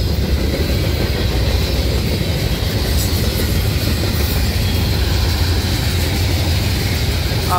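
A CSX freight train rolls past as a steady, close, loud rumble of cars on the rails, unbroken for the whole stretch with no voices.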